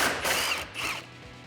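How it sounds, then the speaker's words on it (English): Ratchet wrench with a 10mm socket on a small extension turning out headlight bolts on a 2015-2017 Ford F-150, a close, brief burst of quick clicking that swells twice over about a second and a half. "Let's grab your 10mm socket, and you may want a small extension"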